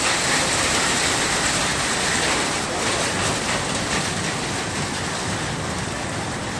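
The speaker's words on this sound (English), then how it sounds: "Rain's coming down hard on the 501 shelter." Heavy rain drums steadily and loudly on an Appalachian Trail shelter roof overhead, a dense continuous hiss with no voices.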